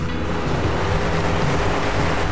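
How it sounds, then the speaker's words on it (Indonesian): Waterfall in the video game GTA Online, a loud, dense, continuous rushing roar of falling water with no breaks, heard alone with no talk. "Tapi di GTA ini juga ada air terjunnya"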